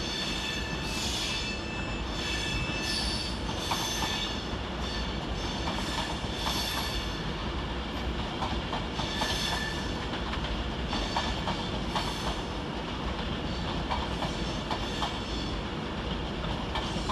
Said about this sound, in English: 390-123, working the 1326 Avanti West Coast service from London Euston to Liverpool Lime Street